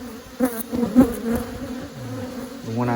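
Honeybees hum and buzz from an opened hive during a split while frames are swapped, a close, dense drone with shifting pitches and a few louder buzzes passing near, with no talking.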